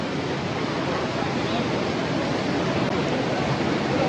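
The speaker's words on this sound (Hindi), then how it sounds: "This is the waterfall final destination." The Harnoi main waterfall in Pakistan roars steadily and loudly up close, a dense unbroken rush of falling water filling the whole stretch.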